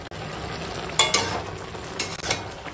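Spinach ghonto with fried lentil bori cooks in a pan, giving a low steady sizzle broken by a few louder scraping stirs near the middle and end.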